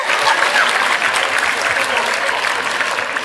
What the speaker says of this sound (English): please stop and applaud your speaker